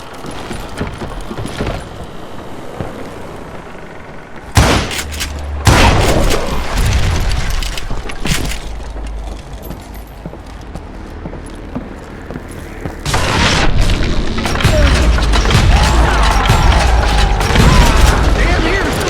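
Dynamite blasts in the western shooter Call of Juarez Gunslinger: two or three heavy booming explosions with rolling low rumble, spaced several seconds apart, amid game effects and a voice talking.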